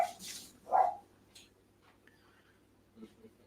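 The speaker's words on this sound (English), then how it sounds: "Dog chasing the bin chicken." A dog chasing an ibis outdoors gives two or three short, faint barks near the start, then only quiet background with a few soft sounds.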